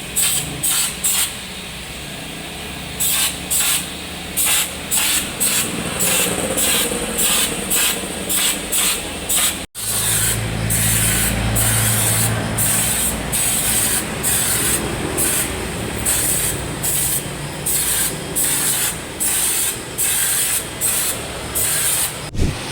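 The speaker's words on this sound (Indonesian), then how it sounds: "kita menggunakan teknik semprot seperti ini biar bisa menjangkau di bagian sela-sela kolong mobilnya" A spray gun applies anti-rust coating to the underbody of a Toyota Hilux in a car care workshop, giving a loud, steady hiss that comes in repeated bursts with short pauses and continues throughout, with no talking.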